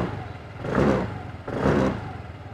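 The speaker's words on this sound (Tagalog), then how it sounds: "Check naman natin, tunog ng tambucho." The exhaust of a Kymco SkyTown 150 scooter revs twice in two short, evenly spaced swells rising above a low idle. The sound is close but fairly quiet.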